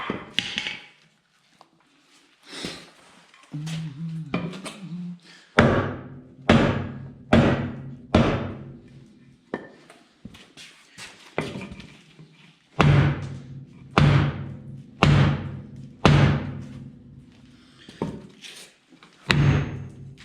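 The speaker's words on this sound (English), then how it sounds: "Got a lead hammer here," A very heavy lead hammer strikes the steering axle parts of a Ford 5000 tractor during a restoration, landing loud, sharp blows in uneven bursts of three to five, with pauses and quiet gaps between groups.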